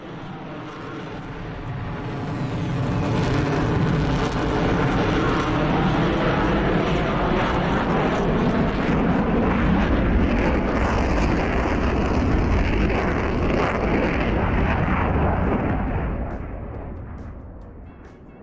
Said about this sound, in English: J-11 takeoff noises